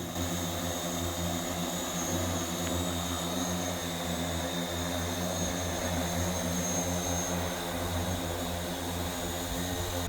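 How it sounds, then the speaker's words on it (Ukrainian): An innovative drone carrying a magnetometric system flies during emergency-service training flights, giving a steady, loud, unbroken engine drone with a strong tonal hum across the whole stretch and no talk. "провели навчально-тренувальні польоти інноваційного безпілотника із магнітометричною системою"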